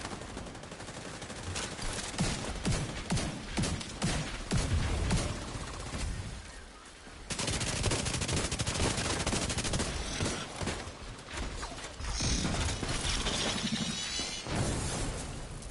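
Dense, continuous gunfire in the video game The Division 2, rapid overlapping shots and bursts that fill the whole stretch, briefly thinning midway before resuming at full intensity.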